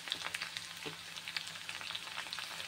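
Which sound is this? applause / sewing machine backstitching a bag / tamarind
tamarind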